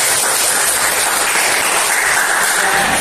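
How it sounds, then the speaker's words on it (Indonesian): A classroom group applauds Mbak Jennifer, with dense, continuous clapping that stays loud and steady throughout. "beri aplaus untuk Mbak Jennifer"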